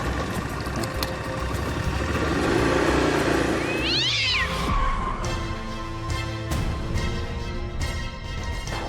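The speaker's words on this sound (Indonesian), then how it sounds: "Itu tadi kucing lewat Mbak" A cat meows briefly while passing by, a short rising cry around the middle, heard over a loud engine and road noise that fills the whole stretch.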